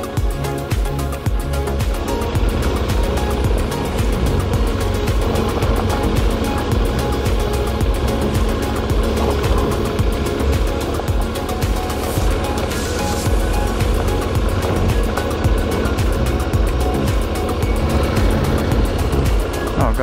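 Off-road motorbike engine running at a beach, a loud, steady idle rumble that stays close and constant with faint wind noise and no clear revving.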